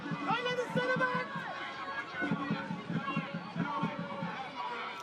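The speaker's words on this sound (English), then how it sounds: "As the crowd noise rises, the pressure rises" Stadium crowd at an A-League football match between Melbourne City and Western United, a dense steady roar of many voices with chanting swells and some nearby chatter throughout.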